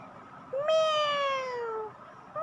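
A single drawn-out cat meow, clear and fairly close, rising then slowly falling over about a second and a half, with the start of another meow at the very end; no talking.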